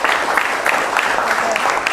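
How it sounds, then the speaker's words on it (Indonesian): Classroom students applauding together in a steady, dense wash of claps that holds at an even level for the whole stretch, close and fairly loud, with no talk over it. "Tepuk tangan untuk kita semua."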